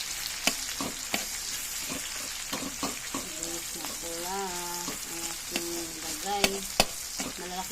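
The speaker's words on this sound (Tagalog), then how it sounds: "Mix ko yung sibuyas." Chopped red onions sizzle and fry in a pan for adobong kangkong while a spoon stirs them with repeated sharp scraping clicks. A soft voice or hum is faintly heard in between.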